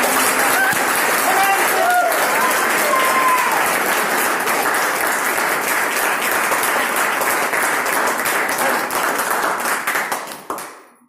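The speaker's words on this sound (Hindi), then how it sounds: "एक बार थोड़ा जोरदार ताली, एक बार आवाज के साथ" Loud audience applause and clapping fill a seminar hall, dense and sustained for about ten seconds before fading out quickly at the end.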